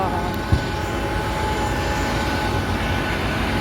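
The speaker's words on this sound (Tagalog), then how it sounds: "Sakay na ako sa aeroplano." Steady, loud airplane cabin drone on a flight to Poland, a broad even roar filling the whole stretch with one brief thump near the start and no clear talk.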